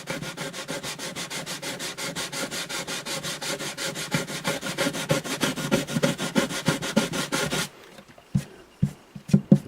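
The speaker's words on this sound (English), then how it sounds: "I may not have to go to a finer sandpaper." Sandpaper rubbed by hand over a rosewood bridge on an Alvarez Artist AD65 acoustic guitar: a fast, regular back-and-forth scratching rhythm, close and steady, then a few quieter separate strokes near the end, no speech.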